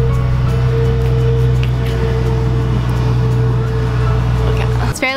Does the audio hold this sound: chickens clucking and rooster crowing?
no